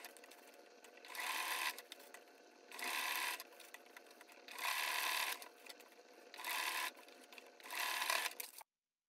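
Sewing machine stitching a 1 cm hem on a tailored jacket sleeve, running in five steady bursts with short pauses between, soft and close with a faint background hum.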